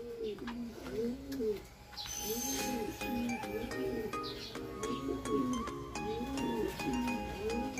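Stock pigeons coo in a repeated, rolling rhythm, several birds close by, with faint chirps and clicks around them and no talking.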